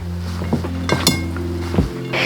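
Shredded celery root being mixed with salt in a bowl, a run of close, sharp clinks and scrapes of utensil against the bowl, irregular and bright, with no talk.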